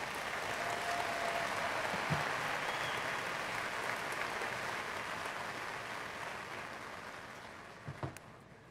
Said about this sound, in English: Now let's have another round of applause for our cum laude graduates.